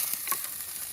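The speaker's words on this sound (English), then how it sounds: "I'll put some oil in there because I want to just cook up the garlic and the onion to start with." Garlic and onion fry in oil in a camp oven, giving a close, steady crackling sizzle with small pops throughout.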